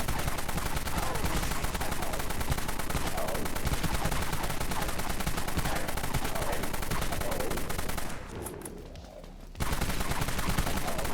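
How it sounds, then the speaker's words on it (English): Dusk minigun in the game Dead Frontier firing a dense, continuous rattling stream of rapid shots, loud and close, briefly cutting out near the end before resuming. "So this is the Dusk minigun."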